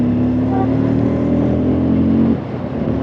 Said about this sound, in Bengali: যখনই 2 গিয়ার বা 3 গিয়ারে তোমরা ফুল থ্রটল দেবে না, একটা আলাদা একটা স্পোর্টি সাউন্ড পাওয়া যায়